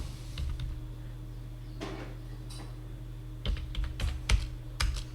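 Fingers typing on a computer keyboard while entering accounting records, quiet clicks at first, then a faster run of sharper keystrokes ending in firm presses like the enter key, close-up with a steady low hum behind and no speech.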